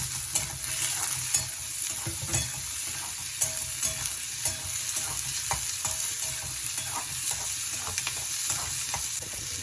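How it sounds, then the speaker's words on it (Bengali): Small cut potato pieces fry in hot oil in a pan for a Bengali kalmi shak dish, giving a steady close sizzle with repeated stirring scrapes and knocks throughout, no voices. "ছোট ছোট করে কাটা আলু। এটাও ভেজে নেব।"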